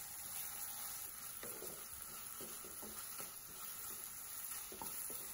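Tomato pieces for yam sambar are stirred in a hot pan alongside onions, giving a soft sizzle with intermittent scrapes and clacks of a spoon, quiet and close.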